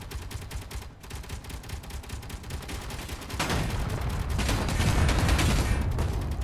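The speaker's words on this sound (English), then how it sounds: "Ooh, big explosions." Rapid bursts of Space Engineers gunfire crackle continuously, then a louder rumbling wave of explosions swells in and keeps booming to the end.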